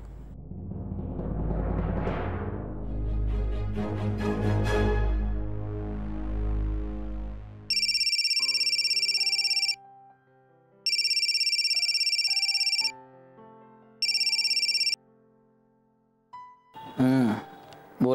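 A mobile phone rings with an electronic ringtone in three separate loud, sustained bursts, each separated by short pauses, following a stretch of dramatic music.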